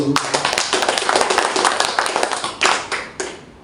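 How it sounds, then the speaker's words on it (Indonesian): A small group claps for a speaker at an alumni coordination meeting, making a short, close burst of brisk, uneven applause that tapers into a few last separate claps. "Yang pertama kita berikan aplaus dulu"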